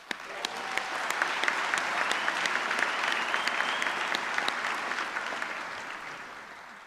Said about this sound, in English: A big round of applause to Howard,